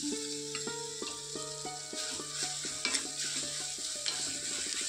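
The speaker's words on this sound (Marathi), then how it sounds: "आता आपण बटाटा किसून घेतलाय तो घालूया." Finely grated potato sautes in a hot pan for spinach soup, with a soft, steady sizzle beneath prominent sustained musical tones and occasional light clicks.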